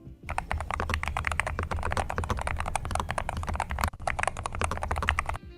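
Rapid, continuous typing on a magnetic-switch mechanical keyboard, with crisp, evenly paced keystrokes close up and a brief pause near the end.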